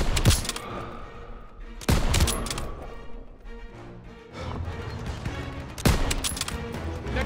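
Call of Duty WWII battle gunfire sounds as loud sharp shots and short volleys that crack out at irregular intervals over a busy backdrop of distant firing and combat noise.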